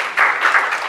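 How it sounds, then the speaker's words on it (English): An audience at a forum on human fraternity breaks into applause, a dense steady patter of many hands clapping for under a second. "A hand clap for you."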